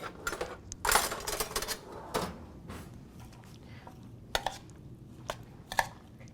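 Diced peach salsa with cilantro and garlic is stirred in a bowl, making quiet scattered clinks and scrapes of a utensil against the dish, close and soft.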